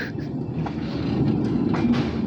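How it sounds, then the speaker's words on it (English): A train rumbles past close by, a continuous low roar with rattling wheels and faint metallic clicks throughout. "Look at that train!"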